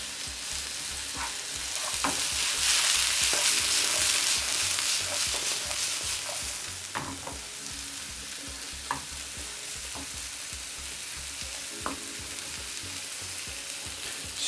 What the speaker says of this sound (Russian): Все, обжариваем до золотистого цвета, слегка золотистого.